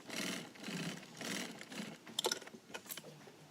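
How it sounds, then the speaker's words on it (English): Industrial sewing machine stitching nylon webbing, sewing seams and a back tack: a close, loud, steady whirring drone that speeds and pauses in bursts, with a few sharp clicks near the end. "sew the bottom of the webbing, sew up the other side, and finish with a 1-inch back tack with a stitch over at the top"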